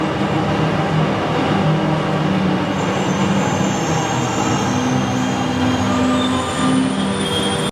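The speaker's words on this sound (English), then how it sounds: "I'm now on the underground getting a train back to the centre of the city from here" An underground metro train in Buenos Aires rumbles loudly and continuously from inside the carriage, with a steady roar of wheels on track and a thin high squeal rising toward the end.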